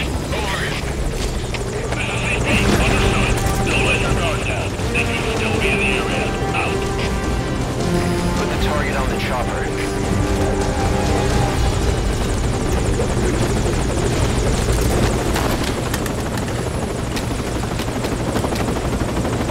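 A military helicopter in the video game Metal Gear Solid V Ground Zeros thumps steadily and loud throughout, its rotor wash and engine whine filling the scene alongside radio chatter and game effects.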